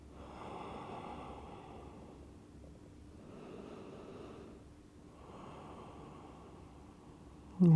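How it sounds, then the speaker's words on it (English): Slow, deep breaths taken while holding a yoga counter pose, soft swelling inhales and exhales in a calm, even rhythm, faint and close with a light airy hiss. "Take 2 breaths here."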